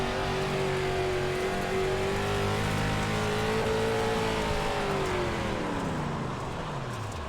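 A Dirt Limited Late Model race car in iRacing, at Lanier, drones loudly under steady heavy throttle, its engine pitch rising slowly, then falling as it eases off, with faint tire noise and no voices.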